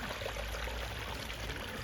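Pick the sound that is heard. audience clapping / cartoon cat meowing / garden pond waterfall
garden pond waterfall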